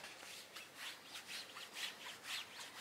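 Fingernails scratch across rough sand washed viscose fabric in quick, repeated, dry rasping strokes with a steady back-and-forth rhythm, very close and faint.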